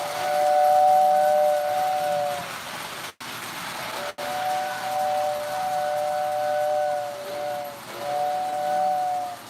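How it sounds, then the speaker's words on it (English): A loud model train whistle tender sounds repeated sustained, steady whistle blasts with short breaks between them, close and prominent over a layout's faint background hum. "that tender, the whistle tender is very loud. It's actually my loudest whistle motor I have."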